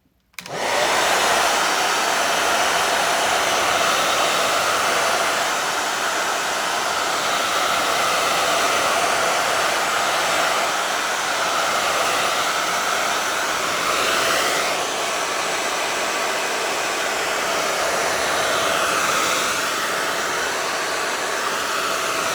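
A hair dryer blows steadily for over twenty seconds to dry acrylic paint on a floral abstract painting, loud and constant after a quick start.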